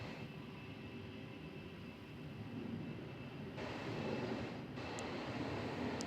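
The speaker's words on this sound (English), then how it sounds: "As a Qantas 771 service to Perth rolls off here on runway 34." A Qantas airliner on flight 771 to Perth rolls along runway 34 at Melbourne Airport, a steady broadband engine roar that grows slightly louder and fuller partway through, heard alone with no talk.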